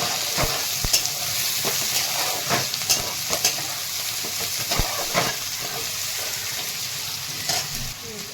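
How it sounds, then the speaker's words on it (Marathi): Onion and peas sautéing in a pan, a steady close sizzle with repeated scraping and tapping stirs throughout. "कांदा वटाणे छान परतून घेत आहे"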